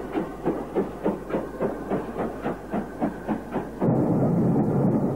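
A 1950s British steam locomotive departing a station, rhythmic chuffing exhaust beats repeating about twice a second, then a steady loud rush of steam and train noise, close and with no voices.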